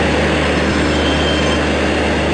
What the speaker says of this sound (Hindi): Kerala express from Trivandrum central via Bhopal पर आ रही है।